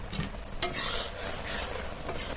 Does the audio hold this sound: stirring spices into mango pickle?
yes